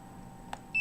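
A cell phone alarm sounds a single sharp, steady electronic tone that starts abruptly near the end and holds loudly, after a faint brief click against a quiet indoor hum.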